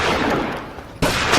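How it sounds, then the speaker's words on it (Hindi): Gunshots in a Hindi film scene crack out as two short, loud bursts separated by a brief lull. "अब ओ गोली मत चलिए"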